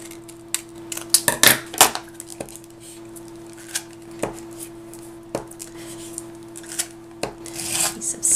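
Scissors cut out a double-sided adhesive paper piece for a mini album, making sharp, irregular snips and crisp paper rustles close by over a steady low hum.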